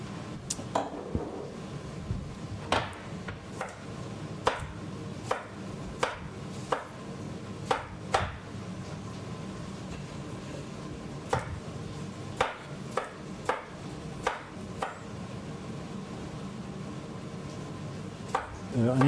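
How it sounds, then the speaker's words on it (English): A kitchen knife halves Brussels sprouts on a chopping board, giving a long run of sharp, irregular knocks close up and fairly quiet, with short pauses between cuts. "split the sprouts, the larger ones."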